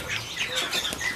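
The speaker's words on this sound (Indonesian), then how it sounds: "Jadi buat teman-teman yang lagi nyari burung jalak putih yang masih anakan dan udah mandiri bisa langsung merapat ke kios" White starling (jalak putih) chicks give dense, overlapping high chirps and calls at close range, with a soft rustle of wings, in a busy bird market kiosk.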